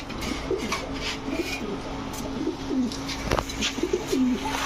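Racer and Gola pigeons coo in soft, repeated throaty bursts at close range, with a few faint chirps and a steady background hum.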